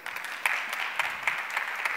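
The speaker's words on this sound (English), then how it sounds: "Round of applause." Conference audience applauding a finalist for a sustainability award, a steady patter of clapping with a few sharper claps, moderately loud and alone.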